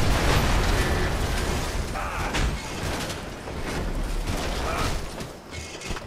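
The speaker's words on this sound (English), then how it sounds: "I'll give you some more explosions." Explosions and collapsing structures in the Red Faction Guerrilla video game, a loud, sustained wall of booming rumble and debris clatter running throughout without pause.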